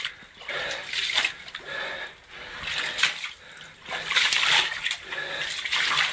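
Someone wades back through water in an underground passage beneath a fortress, producing rhythmic, close splashes and sloshing steps that surge and ebb with each stride, with no talk.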